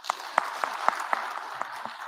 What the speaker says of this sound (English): So for him, one more round of applause.